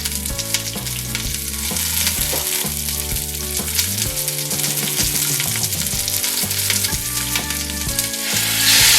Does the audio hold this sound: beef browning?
yes